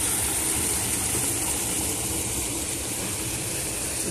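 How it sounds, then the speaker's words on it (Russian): Water rushes steadily at a pond or river outdoors, a dense continuous broadband roar that stays loud and even throughout with no voices. "Так мне нравится, когда шумит вода."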